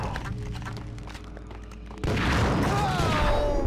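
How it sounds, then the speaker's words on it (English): Grenade explosions in the Max Payne video game on PS4, a sudden loud booming blast that cuts in halfway and leaves a sustained rumbling roar with debris. "Oh, he's throwing grenades? That's not fair."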